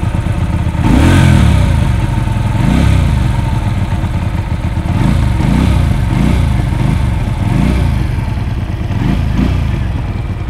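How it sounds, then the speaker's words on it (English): A small-capacity V-twin cruiser motorcycle engine revs loud and close, rising and falling in repeated throttle blips over a rough, pulsing exhaust beat. "It's just such a lovely sounding bike, and it's the engine that really makes bikes."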